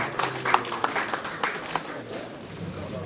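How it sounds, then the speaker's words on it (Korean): A hall full of people applauds in thanks during a church general assembly of the Christian Council of Korea, with irregular claps that are moderately close and thin out toward the end. "박수로 감사의 마음 전해주시면 좋겠습니다"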